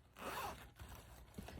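A zipper pocket on a yarn bag is pulled open in one quiet continuous rasp, followed by a few soft fabric rustles, close by with no talking.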